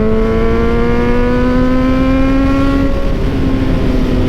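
A modified Kawasaki Z900RS motorcycle engine revs hard at high RPM with a loud, steady rising whine. The tone climbs smoothly toward redline, drops abruptly near the end and then settles back into a steady drone.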